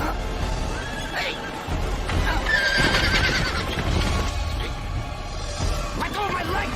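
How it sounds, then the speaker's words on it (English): Spooked horses in an anime scene neigh and whinny loudly, several shrill cries rising over a busy backdrop of hoof clatter and commotion, with excited voices talking in between. "Great, you spooked the horses."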